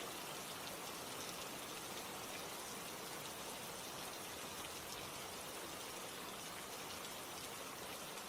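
Steady rain falls without pause, a dense, even hiss of drops pattering on surfaces, soft and unchanging throughout with no voices.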